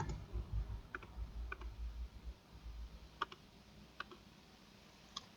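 Several sparse, faint keystroke clicks on a computer keyboard during work in a clothing pattern-making program, set over a low steady room hum.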